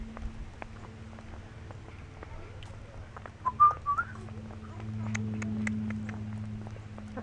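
A person whistles a few short, clear notes in the middle of a quiet outdoor walk at an arboretum, set against soft low background hum and scattered light clicks and rustles.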